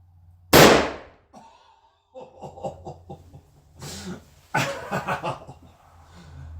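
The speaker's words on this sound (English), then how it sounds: "Really what we're trying to do is just establish what it's like to shoot an African big game rifle." A single sharp, loud report from a Ruger No. 1 rifle in .375 H&H with open sights is fired outdoors at 55 yards. Talk and laughter follow afterwards.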